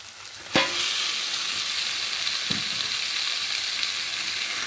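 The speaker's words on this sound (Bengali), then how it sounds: "দিয়ে চিকেন দিয়ে মশলার সাথে ভালো করে একটু কষিয়ে নেব।" Chicken pieces frying in a pan with spice masala, a steady bright sizzle throughout with a couple of sharp knocks of a utensil against the pan, and no talking.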